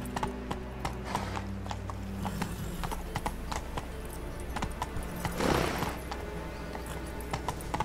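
Roach the horse galloping in The Witcher 3, hooves clip-clopping in a steady rapid rhythm, close and continuous over a low ambient bed, with a brief swell near the end.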